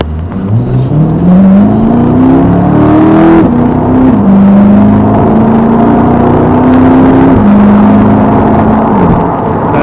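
A loud mid-engined 2020 Chevrolet C8 Corvette engine revs up in rising pitch steps as it accelerates hard, shifting gears, close and continuous throughout.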